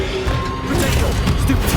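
Two spells, Accio and Incendio, are cast in the Hogwarts Legacy video game, giving a quick crashing magical impact with a whooshing burst, loud and close in a brief moment.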